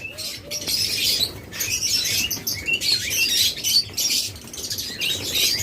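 Lutino opaline budgerigars chirp and twitter busily up close, overlapping high tweets and chatter filling the air with a brief flutter of wings.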